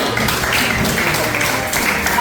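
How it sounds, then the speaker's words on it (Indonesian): A classroom of students applauds after a presentation, producing loud, dense and continuous clapping close by that holds steady throughout. "Tepuk tangan dong."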